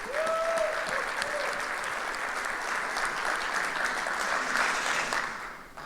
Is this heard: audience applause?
yes